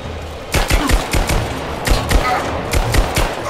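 Rapid bursts of video-game gunfire in Rise of the Tomb Raider, a dense string of sharp, close shots over about three seconds with a steady rumbling bed beneath.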